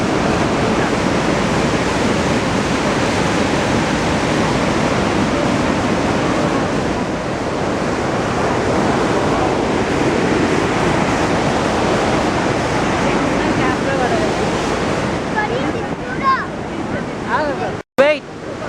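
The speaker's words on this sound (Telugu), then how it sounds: "Sagar project Nizamabad district flood వాటర్కి గేట్స్ ఓపెన్ చేశారు." Flood water roars out of the open gates of the Sriram Sagar dam in Nizamabad district, a constant, loud, broadband rush of gushing water that holds steady throughout, ending in a brief sharp knock near the close.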